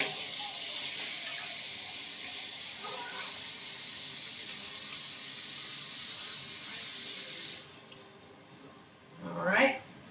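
Water from a can poured into a pot of homemade tomato sauce, a steady loud rushing stream lasting several seconds that stops abruptly, followed by brief softer sloshing.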